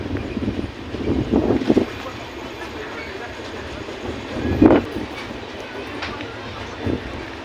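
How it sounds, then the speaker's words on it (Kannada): Windy open-air platform ambience at Alamatti railway station: a low rail rumble, gusts buffeting the microphone, and a few scattered thumps, with faint voices in the background. "ಸೊ ಇದೇ ನೋಡ್ರಿ Alimatti station so railway station ಇದು"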